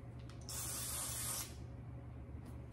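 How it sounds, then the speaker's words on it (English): Cooking spray hisses from a can onto pans in one steady burst of about a second, loud and close over a low background hum, then stops. "let's spray our pans"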